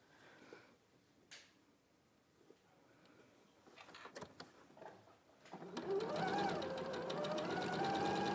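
A sewing machine basting quilt pieces into place, starting with scattered faint handling clicks and knocks before the motor kicks in midway with a loud, steady, fast stitching whir that runs to the end.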